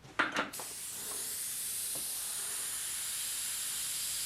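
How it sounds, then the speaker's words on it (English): An airbrush sprays paint for a skin texture effect, giving a steady, close, airy hiss that starts after a few brief clicks and handling noises and continues evenly to the end. "Make sure I'm spraying the right color through now"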